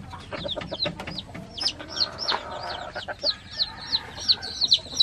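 Young labuyo junglefowl chicks on a farm give repeated high peeping calls in a rapid, irregular series throughout. Soft clucking and handling noises sit underneath, and no one speaks.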